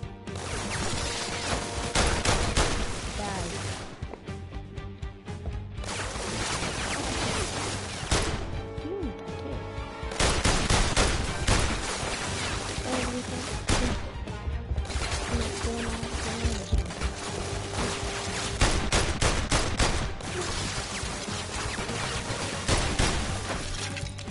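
Gunfire in the PlayStation VR Worlds video game, repeated sharp shots and crashing impacts over a busy, loud game soundtrack, lasting throughout.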